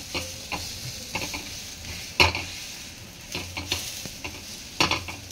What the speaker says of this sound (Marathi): आता दुसऱ्या साईडनं भाजून घेऊया.